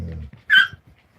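A dog gives a single short, sharp bark, loud and close, at a home with puppies, following a brief low murmur of a voice.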